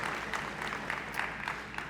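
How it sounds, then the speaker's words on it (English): An audience at a West Virginia brownfields and Main Street conference claps, a short burst of moderate, steady applause from a roomful of people. "can we have a round of applause for them"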